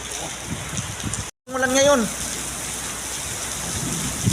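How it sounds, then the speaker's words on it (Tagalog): Heavy rain pours steadily in Riyadh, a dense continuous hiss of downpour on surfaces with a brief cutout and a faint rumble during the storm. "oh lakas ng ulan"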